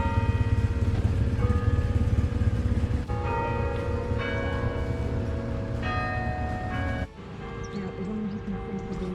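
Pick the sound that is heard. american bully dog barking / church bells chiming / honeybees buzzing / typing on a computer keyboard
church bells chiming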